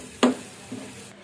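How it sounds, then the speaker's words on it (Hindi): Masala being lightly fried and stirred in a pan for aloo tikki, one sharp scrape of the spoon followed by a faint sizzle and a softer second stir. "इसके बाद हम इसको हल्का सा फ्राई कर लेंगे।"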